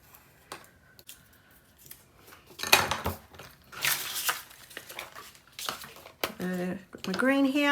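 Scissors snip through colored gold and green paper for scrapbooking, giving scattered close crisp cuts and paper rustles, with a voice speaking briefly at the end.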